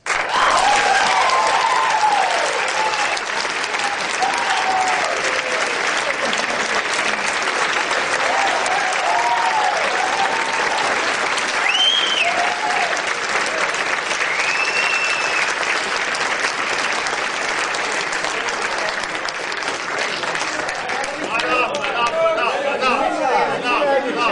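A lecture audience at the University of Washington applauds loudly and steadily throughout, a dense wash of clapping with scattered cheers and crowd chatter mixed in, sustained from start to finish.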